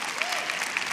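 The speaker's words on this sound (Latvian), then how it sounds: "Aplaus Mārai, Māriņa!" An audience applauds at the GAMMA music industry awards ceremony, a steady wash of clapping from a large crowd that fills the whole moment, with a voice faintly underneath.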